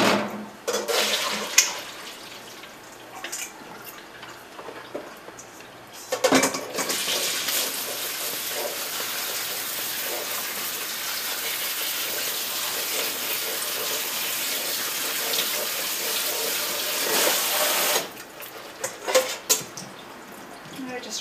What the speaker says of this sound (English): Just run them under a little bit of water and let them drain.